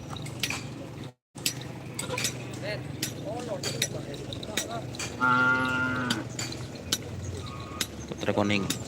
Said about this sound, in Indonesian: Ini salah satu sapi kecil ya.